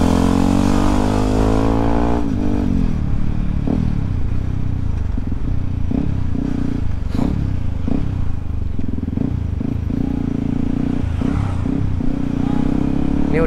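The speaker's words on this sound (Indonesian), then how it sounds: "Suaranya bulat sih ini knalpot." A Yamaha WR motorcycle fitted with a new Radamel F4-1 aftermarket exhaust, idling loud and close with a deep, bassy note, then blipped through a series of sharp throttle revs that rise and fall one after another.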